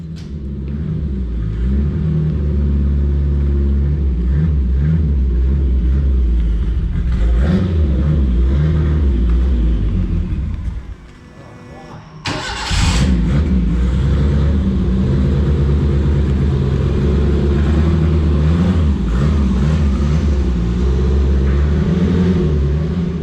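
A car revs hard on a rolling-road dyno during a power run, the engine roaring loud and steady with a brief dip in the middle before climbing again.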